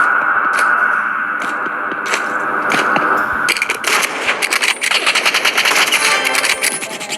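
Assault rifle fire in the Roblox shooter Rivals, loud and close, with bursts of rapid shots in the second half over a steady hum of game audio, with no talking.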